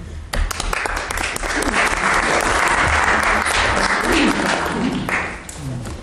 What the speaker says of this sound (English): it was nice to have given him applause in absentia